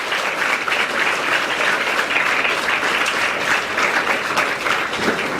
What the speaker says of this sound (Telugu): సెక్రటరీ అయినటువంటి ఉదయమోహన్ సార్కి గట్టిగా ఒకసారి క్లాప్స్ కొట్టండి మా